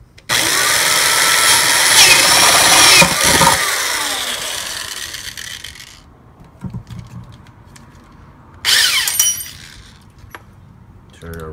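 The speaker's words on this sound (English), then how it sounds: "you want to go along the edge somewhere, along the edge here, and drill in a hole." A power drill with a 7/8 bit bores a hole near the edge of a 5-gallon plastic bucket, a loud whining grind lasting about three seconds, then fading into quieter handling clatter before a second short burst of drilling.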